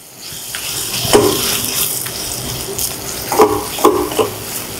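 Mango ginger paste simmering in a pot as a thokku, sizzling and bubbling steadily, with several clear stirring scrapes and clinks from a spoon against the pot and no talking.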